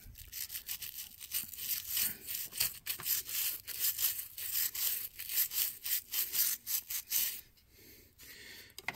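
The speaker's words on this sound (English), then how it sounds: "these are still going to take some more time and some more scrubbing to get completely clean." Steady back-and-forth brushing and scrubbing of paint off a plastic Atlas RS3 model locomotive shell, a dense rhythmic rasping that carries on closely and loudly with no talking.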